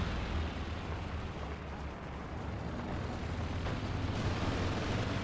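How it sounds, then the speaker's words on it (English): Airstrike explosions roll across the battlefield in Company of Heroes 2, the World War II strategy game, as a dense, continuous low rumble of blasts without clear gaps. "Blue Division calling in an airstrike to target enemy armor and infantry alike."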